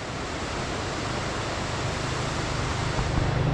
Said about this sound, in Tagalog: Ayan na agad yung alon.